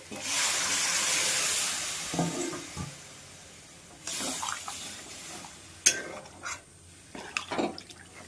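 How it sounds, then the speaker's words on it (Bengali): Water pours into a pan of pointed gourd and prawn curry after frying the spices, a sustained rushing hiss for a couple of seconds followed by bubbling, clinks and scattered kitchen clatter. "আমার কষানো হয়ে গেছে ভালোভাবে, এবার জল দিয়ে দেবো"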